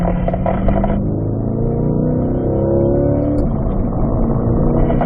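On a race track, a car engine in fourth gear revs loud and close, its droning pitch climbing steadily as the car accelerates, then dipping slightly and building again.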